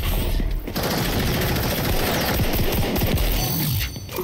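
Loud, continuous gunfire in the shooter game XDefiant, a dense overlapping fusillade of rapid shots with brief lulls at the start and end, no talking.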